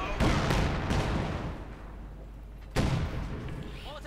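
In Company of Heroes 2, mortar fire booms in two heavy blasts a few seconds apart, each with a rumbling tail, amid the game's battle noise.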